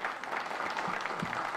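An audience claps for the president of the Dominican Republic at a Playa Macao inauguration, a dense, steady burst of applause close by and sustained through the moment.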